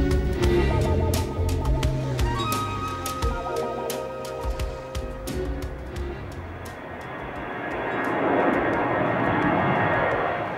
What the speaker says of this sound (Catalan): es poden comptabilitzar fins a 3 avions en menys de 10 minuts.